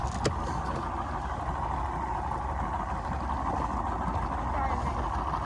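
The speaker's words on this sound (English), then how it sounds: "Here's that motor coming." Boat outboard motor droning steadily on open water during jug fishing, a constant mid-distance engine hum and water wash with no clear break.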